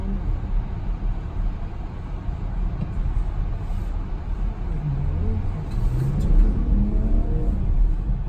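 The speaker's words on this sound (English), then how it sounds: "So obviously it is louder when you accelerate." A 2019 BMW X7 40i SUV engine drones steadily, then swells louder as it accelerates, with rising engine tones near the end and a low road rumble throughout.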